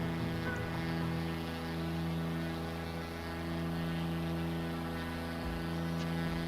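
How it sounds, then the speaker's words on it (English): Steady, loud aircraft engine drone from a plane in Microsoft Flight Simulator 2020, an even propeller hum with strong low harmonics running continuously with no voices. "That engine sounds a little loud."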